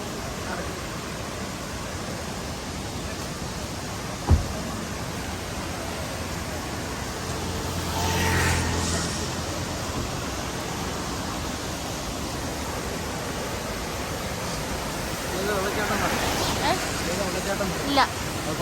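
Valara and Cheeyappara waterfalls roar as a continuous broadband rush, steady and enveloping, with a few sharp knocks and brief voices passing over the constant water noise.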